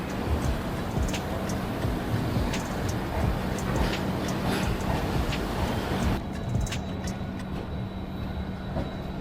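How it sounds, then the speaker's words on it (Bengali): The Brahmaputra Mail train rolls out of New Bongaigaon railway station, a steady loud rumble with rhythmic wheel clatter heard from on board, easing slightly toward the end. "আমাদের ট্রেন এখন ডিপার্চার নিল নিউ বঙ্গাইগাঁও রেলওয়ে স্টেশন থেকে"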